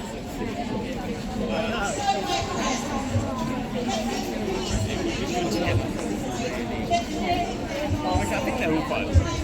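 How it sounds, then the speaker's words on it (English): Crowd at a Stop Trump protest rally, a steady wash of overlapping chatter heard from within the gathering as someone walks through it, with no single voice standing out. "So I'm just walking around the crowd to give you a feel of what it's like here."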